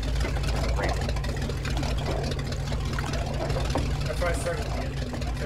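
A landing craft engine idles in ArmA 3 during a WW2 D-Day beach operation, a steady low throbbing drone with a lapping watery rumble, constant and close, with people talking over it.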